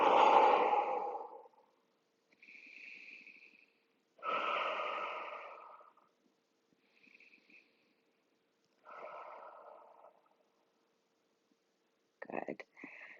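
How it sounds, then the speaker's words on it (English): Deep breathing exhales during a yin yoga hip-opening pose, a long heavy breath followed by several shorter, softer exhalations at irregular intervals in a quiet room. "let's do 3 more big exhales"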